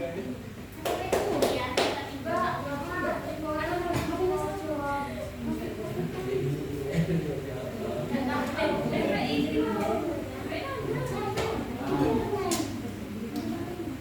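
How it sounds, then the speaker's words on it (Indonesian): A classroom of students claps for a group presentation, with scattered claps and taps under ongoing children's and teacher's voices that stay fairly prominent throughout. "Tepuk tangan"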